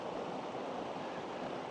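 A clear mountain stream in the Central Drakensberg near Monk's Cowl runs steadily, making a soft, even rushing wash with no other sounds.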